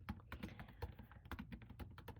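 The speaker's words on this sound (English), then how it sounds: "So I'm going to start by typing in" Computer keyboard keys tapped in an irregular, close-up typing burst, with short gaps between clusters of strokes and no voices.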